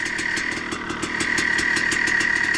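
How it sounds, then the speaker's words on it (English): A freshly rebuilt KTM motorcycle engine runs on its first heat cycle, a steady close idle with a rapid, even pulsing beat and small regular surges. "letting the bike run, give it a few little small revs"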